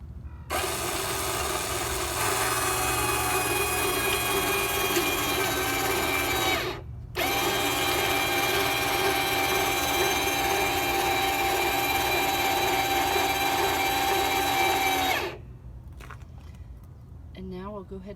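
An electric tongue jack on an Airstream trailer lifts the coupler off a tow vehicle's ball hitch with a steady, loud motor whine. It runs about six seconds, pauses briefly, then runs roughly eight more before stopping.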